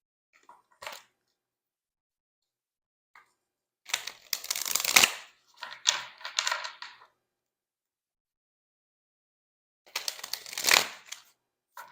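An oracle card deck is shuffled in short bursts, with a faint tap early on, then a few seconds of rustling riffles, a pause and another brief shuffle, close and quiet, with no talk.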